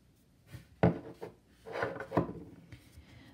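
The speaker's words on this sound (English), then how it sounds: "give the cards a shuffle" Oracle cards being shuffled give a few soft, quick rustles and papery slaps in short bursts, close and quiet, with no talk.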